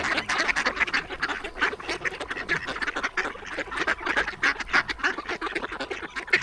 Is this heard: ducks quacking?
yes